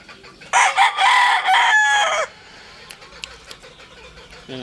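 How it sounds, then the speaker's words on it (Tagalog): A rooster crows loudly and close by in a single long call, followed by quieter background noise and faint chicken sounds. "Gwapo talaga itong manok na to."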